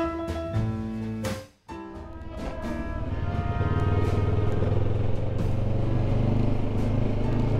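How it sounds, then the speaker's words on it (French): A motorcycle engine hums and revs while riding along the Croatian coast past small fishing villages, a close, steady drone with gear-shift clatter and a brief dip before the engine pulls strongly again. "c'est la mélodie du motard"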